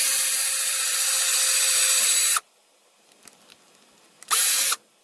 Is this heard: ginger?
no